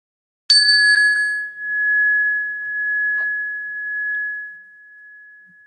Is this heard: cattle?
no